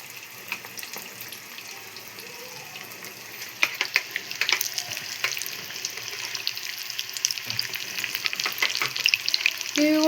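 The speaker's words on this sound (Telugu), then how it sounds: "దీన్ని నార్మల్గా ఫ్రై చేసేసుకోవచ్చు, ఆయిల్లో డీప్ ఫ్రై." Chicken cheese balls deep frying in hot oil, a steady bright crackling sizzle with sharp pops and spatters that grow busier and louder toward the end, no voices.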